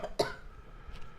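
A woman coughs once, sharply, after laughing hard during a live cooking stream, followed by faint room noise and breathy background.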